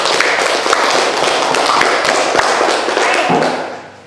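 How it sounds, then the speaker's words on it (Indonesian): A classroom of students clapping their hands together, a loud, dense patter of claps with sharp taps standing out, carrying steadily before fading at the end. "tepuk tangan dulu untuk saat ini"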